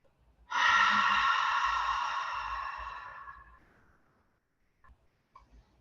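A long, deep breath in a yoga class, an airy exhale that starts sharply and then tapers off over about three seconds, close and alone, followed by near silence with a few faint rustles.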